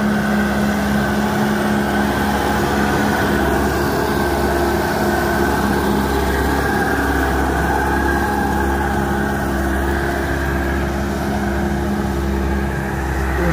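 A rebuilt car engine runs steadily and loud for the whole stretch, a dense continuous rumble with a low throbbing idle and no gaps, up close, with no one talking over it.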